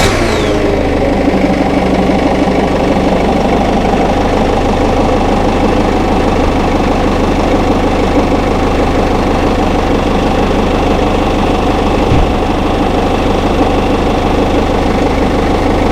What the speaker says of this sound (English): Start the van.